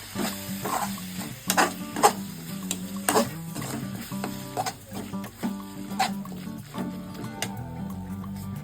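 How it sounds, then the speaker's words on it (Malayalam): Big mint leaves stirred in a hot frying pan, a spatula scraping and clattering in irregular bursts over a low, steady sizzle, close and fairly loud. "അത്യാവശ്യം നന്നായിട്ട് ഇളക്കി കൊടുക്കാം."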